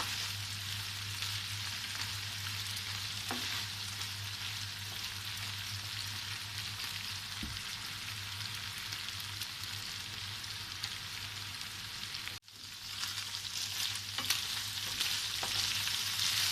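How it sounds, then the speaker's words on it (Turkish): Chicken pieces and eggplant sautéing in a hot pan while being stirred, a steady, loud, close sizzle and crackle that continues without pause and without talk. "Beş dakika kadar kavura kavura karıştıracağım."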